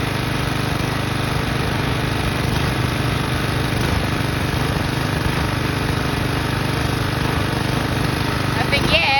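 A Craftsman lawn mower with a Briggs & Stratton engine, sugar added to its intake, runs steadily at wide open throttle with the choke on, a loud, close, unbroken engine drone throughout.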